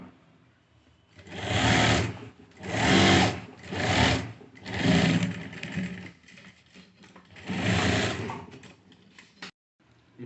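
A sewing machine stitches formal pants in several bursts of rapid mechanical whirring, each lasting a second or so, separated by short pauses, close and clear with no speech.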